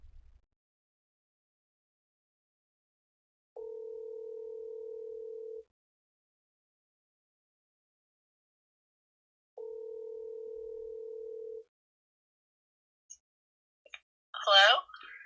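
An outgoing phone call rings on speakerphone: two long, steady ringback tones a few seconds apart with silence between them, then a short burst of a voice answering at the end.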